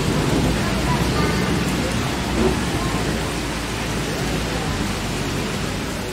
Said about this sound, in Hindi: तो इस तरफ भयंकर बारिश हो रही है